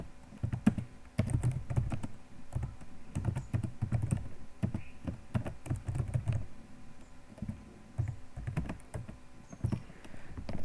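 Keys clattering on a computer keyboard while a switch case program is typed, steady bursts of close, moderately quiet key presses with brief pauses between runs.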